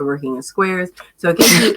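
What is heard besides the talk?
sneeze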